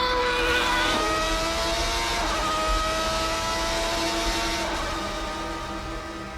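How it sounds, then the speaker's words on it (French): Ferrari race car engine at a Ferrari Challenge circuit event, a high rasping whine rising and falling through several gear changes, loud at first then fading slightly as it pulls away. "Et la voiture de course"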